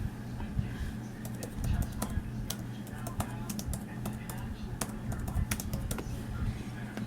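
Rapid clicking keystrokes on an Apple Magic Keyboard, close and steady throughout, with light talk in the background.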